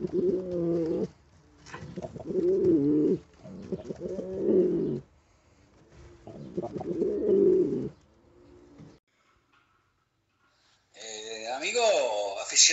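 Pouter pigeons coo close by in repeated low, throaty bursts separated by short pauses, followed by a brief higher, wavering call at the end.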